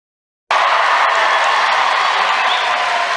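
Sudden loud crowd applause bursts in after a silent moment and continues steadily, dense clapping with some cheering mixed in, at a Christian nationalist convention speech by Donald Trump in 2022.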